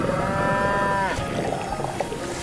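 A cow in an animated cartoon lets out a long, drawn-out moo that fades into a noisy outdoor background, with no talking.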